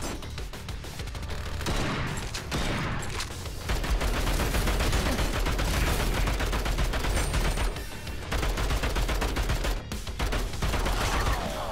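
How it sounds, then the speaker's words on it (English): Sustained assault rifle gunfire in the dystopian roguelite shooter Bunker Punks, with dense rapid bursts and booming shots filling the whole stretch, loud and continuous with only brief dips. "That's the assault rifle again, kaboom."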